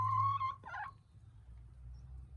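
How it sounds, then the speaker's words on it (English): An eight-year-old hen in a chicken coop gives one drawn-out, tonal call that breaks into a short harsh squawk, then falls quiet against a low background hum. "That's our oldest chicken."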